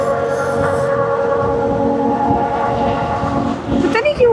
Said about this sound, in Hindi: पता नहीं क्यों फजूल में हॉर्न किए जा रहा है।